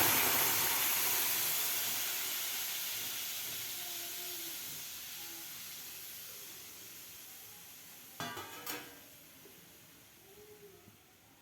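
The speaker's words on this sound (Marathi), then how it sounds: "यामध्ये आता आपल्याला हे मॅश करून घेतलेले टोमॅटो घालायचे आहेत" Mashed tomatoes hit a hot kadhai and sizzle, a loud broad hiss of steam that slowly fades over several seconds, with a few scraping stirs near the end.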